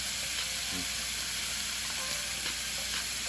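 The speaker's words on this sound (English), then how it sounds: "adding some onions, chopped onions, minced garlic and ginger" Chopped onions, minced garlic and ginger sizzle steadily in a hot pan for a Jamaican beef patty filling, a constant close hiss with a few faint stirring scrapes.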